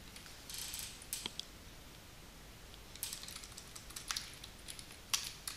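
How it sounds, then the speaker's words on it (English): Quiet, sparse keystrokes on a computer keyboard, tapping in uneven bursts with pauses between, close by and without talking. "here we are typing the text called precision series"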